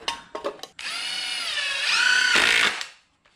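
Cordless power drill driving a screw into glued wood while building a garage cart, a few short clicks then a loud sustained whine that rises in pitch near the end before stopping, close by with no talk.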